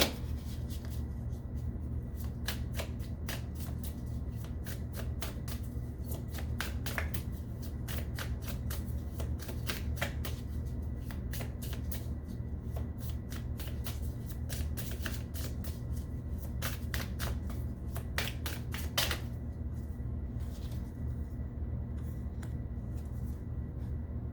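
Tarot cards are shuffled by hand for a long stretch: a continuous soft riffle of card edges with irregular crisp snaps over a steady low background hum.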